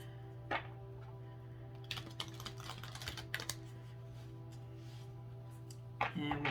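Tarot cards from a Power of Surrender deck are shuffled, producing quiet, close rapid riffling bursts over a steady low hum, with a louder flurry at the end.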